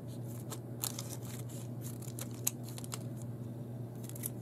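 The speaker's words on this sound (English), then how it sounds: "I'm going to cut off the part where it's like melted together." Scissors snipping through a paper bag at a melted seam, a quiet series of short crisp cuts and rustles close by with no talk.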